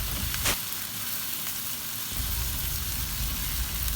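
Onion, ginger and tomato sauté in a hot pan for squid adobo, giving a steady close sizzle and crackle with a brief stirring scrape near the start and no talking.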